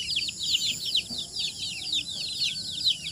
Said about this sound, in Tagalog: mga Rhode Island Red.